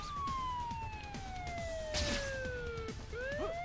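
A police car siren in the Spider-Man 2 video game wails in a long, steadily falling tone that then climbs again, loud and close, as the car swings through a quick turnaround.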